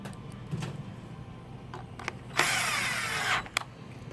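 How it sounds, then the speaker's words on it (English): Scattered clicks and handling noises, then a power tool driving screws into a magnesium fan housing whirs close by for about a second before stopping. "using a power tool on these types of machines"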